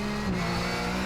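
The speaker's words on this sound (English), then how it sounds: "just locking up a brake all the way down" A Porsche 911 GT3 Cup in iRacing at Bathurst with a brake locked up under heavy braking: a steady engine drone and a faint tyre squeal in one short unbroken stretch.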